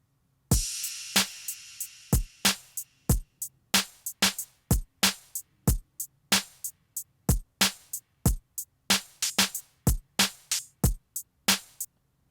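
Programmed hip hop percussion track, sample-free, with crisp sharp drum hits in a steady looping pattern over a faint low hum.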